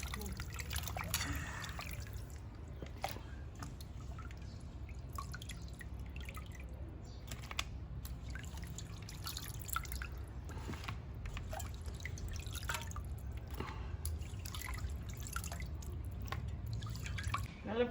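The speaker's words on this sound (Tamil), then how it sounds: "அலசுன்னு ஒரு 5 குண்டான் தண்ணியில் நாளும் அலசி எடுத்தாச்சு" Small fish being rinsed by hand in pots of water in a home kitchen, with irregular drips, splashes and trickles close by over a steady low background, with no one talking during it.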